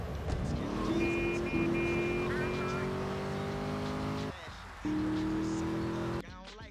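Car engine droning steadily in GTA III, with a long rising tone, brief gear drops and a cut near the end, loud and close with game sounds over it.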